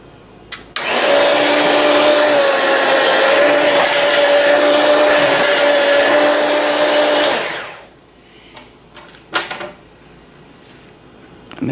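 An electric food slicer whirring at a higher speed, a steady loud motor drone with a constant hum that runs for several seconds, then spins down and stops, followed by a few faint clicks.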